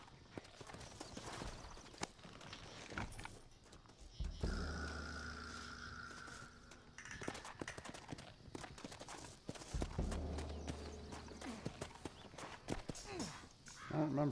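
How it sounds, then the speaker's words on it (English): Horses in the Red Dead Redemption video game move in steady clip-clop hoofbeats under game sound and voices, with a couple of heavier rumbling bursts along the way. "Looks like Carlos left us some horses."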